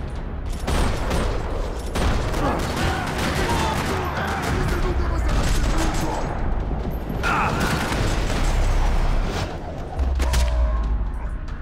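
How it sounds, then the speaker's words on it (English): Gunfire fills a parking lot in the video game Max Payne 3, dense rattling bursts of automatic shots and booms continuing without pause, with brief mechanical clatter between volleys. "Another parking lot rattling with gunfire."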